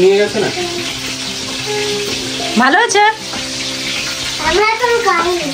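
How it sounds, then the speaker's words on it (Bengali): Chicken sizzling with onions in a hot pan, a continuous crackling fry under a few short spoken questions, with scraping stir sounds and a musical tone in the background. "তারপরে একটু পেঁয়াজ ভাজা করে তার সাথে চিকেনটাকে একটু ভেজে নিচ্ছি।"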